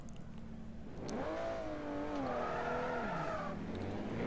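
Honda S2000 and Toyota Supra drift cars in a Formula Drift racing video game at Road Atlanta, engines revving loudly in rising and falling sweeps with tire noise, close and continuous, with no talking.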